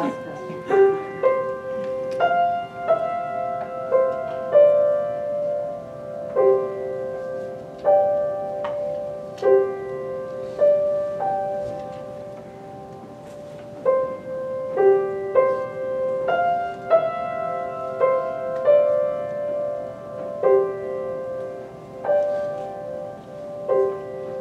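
Solo piano plays a piece with the sustain pedal held down throughout, so gentle repeated notes ring and blend into a continuous wash of sound.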